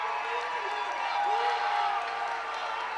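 A high school varsity football crowd roars steadily after a 290-pound lineman sacks the quarterback, a dense, sustained wash of cheering and clapping from the stands that holds loud throughout.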